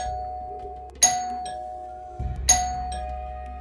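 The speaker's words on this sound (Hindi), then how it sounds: "अचानक से ना 3 बार डोरबेल बजी।" Doorbell rings out in a quiet flat late at night, two clear electronic chimes about one and a half seconds apart, loud and close, each with a ringing tail.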